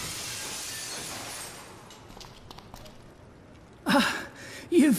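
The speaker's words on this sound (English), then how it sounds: "let's cross our fingers that the seat cover absorbs the noise of the breaking glass" In the game Dead Synchronicity, glass breaks muffled under a seat cover: two short, dull crunching bursts near the end after a quiet ambient stretch, with breathy vocal gasps.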